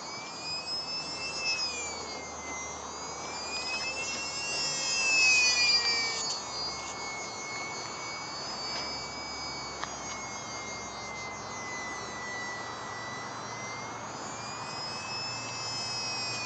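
A small UMX Sbach radio-controlled model plane flying on a 7.4V 500mAh battery, its electric motor giving a steady high-pitched whine that rises and falls as it passes, fairly close and continuous throughout.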